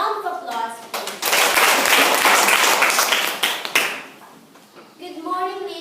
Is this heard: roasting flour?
no